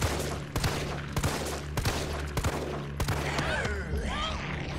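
Rapid gunfire from the video game Resident Evil 3, a string of sharp, loud shots at irregular intervals over a steady low hum, ending in a burst of ringing, echoing tones.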